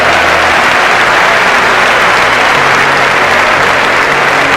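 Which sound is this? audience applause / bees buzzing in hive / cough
audience applause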